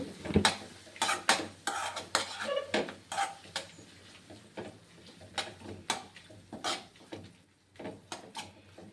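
Gongura chutney stirred in a pan, a quick series of sharp scraping and clinking strokes against the metal, close and steady in rhythm over a faint background hum, with no talking.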